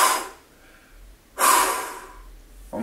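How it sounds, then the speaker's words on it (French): Breathing exercise: two strong, close breaths forced out through the mouth, each a loud airy whoosh fading out, separated by a quiet pause, with the start of a third at the end. "On bloque sa respiration. 1, 2 et vous soufflez par la bouche 2 fois."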